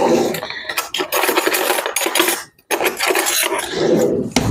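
Metal cutlery and dishes clatter and scrape close by in a kitchen while deviled eggs are being stuffed, a spoon being picked up from among the dishes in steady jumbled clinks with a brief pause midway.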